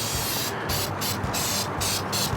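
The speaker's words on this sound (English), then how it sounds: "And then we're going to give it one more spray." Short bursts of hissing spray repeat in quick succession, close by, with brief gaps between each pump of the nozzle, as liquid is sprayed onto a seasoned turkey.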